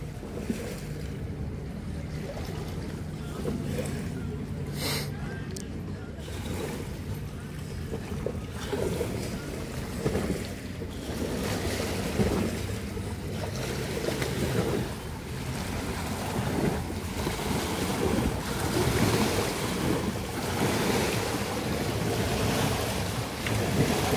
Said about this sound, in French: Tiens, revoilà les vagues.